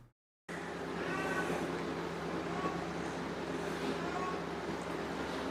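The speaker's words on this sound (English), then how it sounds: "That's either a child or a cat, but I want to say it's a cat." A cat meowing in the background of a talk-style recording, faint repeated mews sitting under a steady hum and low room noise.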